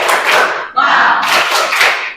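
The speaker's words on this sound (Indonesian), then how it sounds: "Tepuk semangat." A group of people claps together in a rhythmic spirit clap at an indoor gathering, the claps dense and loud with a brief break partway through, and voices mixed in.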